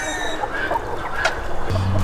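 Chickens of mixed breeds, including blue mottled, cluck softly and repeatedly at close range in a short burst, with a low hum in the background.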